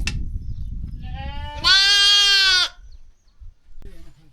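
A lamb or ewe at a rainy Himalayan high pasture gives one long, loud, quavering bleat that rises in strength, followed later by a faint short call, over low rumbling background noise.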